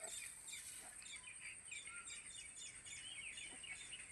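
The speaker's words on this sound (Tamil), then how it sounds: "பலா மரத்தில் ஒரு குருவி உட்காந்துருக்கு." A sparrow perched in a jackfruit tree in a village chirps in repeated faint, high tweets over steady background noise and distant bird calls.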